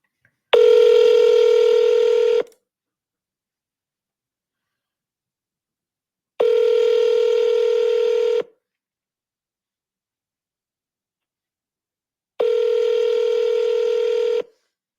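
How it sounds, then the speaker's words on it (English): Three separate telephone tones about two seconds long, each a steady beeping tone with rich harmonics, come roughly every six seconds with silence between them, like the ring-back heard while a call goes through. "Let's call Mr. Carl."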